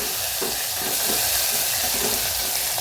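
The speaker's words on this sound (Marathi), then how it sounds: "छान भाजले बघा लाल मिरची" Red chilies roasting in a pan while making varan, a steady loud frying sizzle with soft stirring scrapes throughout, close and continuous.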